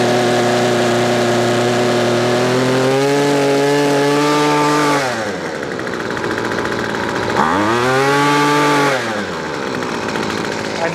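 A Weed Eater Feather SST25 gas string trimmer runs loud and close, its small two-stroke engine revving up to full power, dropping back, then surging to full throttle again before easing off.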